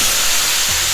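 Stock poured into melted butter in a hot pan hisses in a loud, steady, close sizzle, with no voices.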